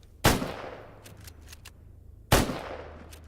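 Two loud, sharp gunshots about two seconds apart over a low hum, from gunfire in STALKER GAMMA, with faint tapping in between.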